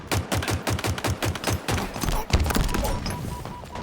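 Gunfire in the video game Halo Infinite, a rapid automatic burst of evenly spaced shots followed by heavier irregular blasts and impacts, loud and close, with no speech.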